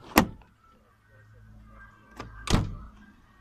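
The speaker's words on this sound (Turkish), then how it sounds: "Sonra bakın kapıyı kapattığınız zaman." A Renault Megane 2 car door fitted with new weatherstrip shuts with a loud, close, solid thunk, preceded by a sharper knock and a lighter click, with no talk.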